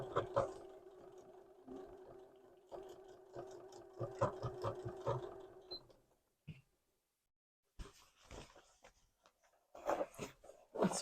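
A sewing machine stitches a repair in denim jeans, running in a steady rapid chatter for several seconds before stopping, followed by scattered handling clicks and fabric shuffling near the mic.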